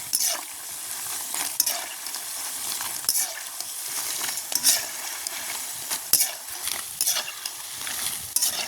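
Diwali snacks deep-fry in hot oil, hissing steadily with a bright sizzle broken by recurring crackling bursts and spatters, close and continuous.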